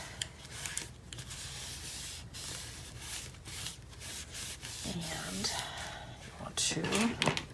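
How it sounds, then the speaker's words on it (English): Glued paper in a handmade mini album being burnished, a soft continuous rubbing and scraping close by with brief rustles, under a quiet, steady room background. "to burnish that"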